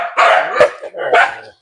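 A farm dog near its kennel shed barks three times in quick succession, close and loud, each bark short and sharp with brief gaps between.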